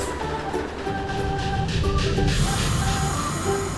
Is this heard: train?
yes